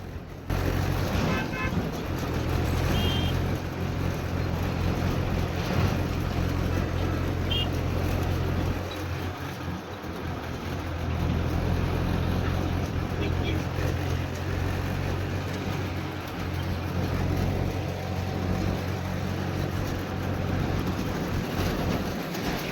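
Steady roadway traffic noise from a vehicle driving over the Tenkasi flyover, a continuous loud engine and road rumble throughout with brief fainter horn toots, while someone talks over it.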